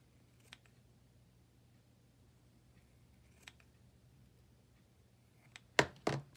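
Pinking shears cutting through fabric: a few faint isolated snips over quiet room tone, then a louder, close double chop of the blades at the end.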